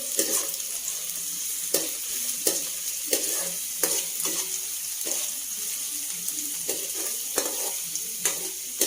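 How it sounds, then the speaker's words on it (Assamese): Onion, chilli and garlic fry in oil, giving a bright, continuous sizzle with repeated clacks of stirring, moderately loud and without talk. "তেলত পিঁয়াজ দিছে, ধান জলকীয়া দিছে আৰু নহৰু দিবা ন?"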